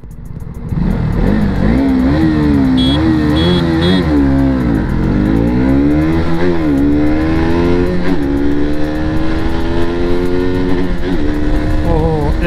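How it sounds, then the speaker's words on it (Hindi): Two motorcycles, a KTM Duke 200 and a Yamaha R15 V3, race at top end, engines screaming loud and continuous as revs climb and shift repeatedly up toward the rev limiter. "एक रेव लिमिटर पहुंच गया।"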